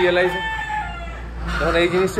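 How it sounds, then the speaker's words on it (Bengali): Chickens clucking and a rooster crowing close by outside a house in Ranaghat, with calls swelling at the start and again near the end over a low background hum. "মুরগিগুলো কি চেল্লাচ্ছে তখন থেকে"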